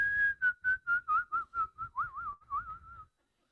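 A man whistles in imitation of birdsong during prayer, giving a string of about a dozen quick, evenly spaced chirping notes that end in a wavering trill. He is close and clear, with nothing else sounding.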